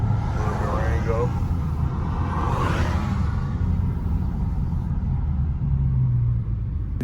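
Interior rumble of a car driving in light rain through traffic, a steady low engine and road drone with a passing whoosh, while someone talks over it at the start.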